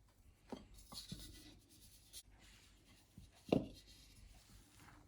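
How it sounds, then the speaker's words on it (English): Chocolate sponge cake batter worked with a spatula in a bowl: soft scraping and folding strokes, close and fairly quiet, with one louder knock partway through. "Now we are done with mixing it with the spatula"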